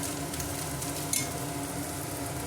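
Okra frying in a pan for a Karnataka-style bendakaya fry, a steady close sizzle with soft stirring scrapes and one brief clink, no talking.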